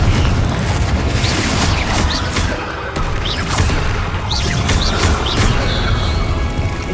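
Fire spells cast in rapid succession during Hogwarts Legacy combat burst with booming, crackling blasts and whooshes, loud and dense over a continuous roar of battle noise with no pause.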